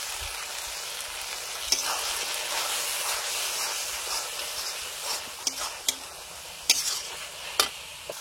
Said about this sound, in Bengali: জলটা দিয়ে মশলাটা কষানো চলছে।